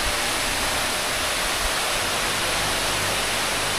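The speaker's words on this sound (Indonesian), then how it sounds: "Cuman yang air terjun utamanya itu yang di sebelah sini guys" Constant broadband rush of falling water, dense and unbroken, like a nearby waterfall roaring steadily with no other sounds.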